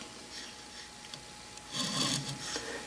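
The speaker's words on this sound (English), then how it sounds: "lay the work on the surface plate and scribe it" A scriber point on a height gauge drawn across a 2-inch diameter metal workpiece resting on a surface plate, giving faint, brief scratchy rasps with a louder stroke near the end, alone without talk.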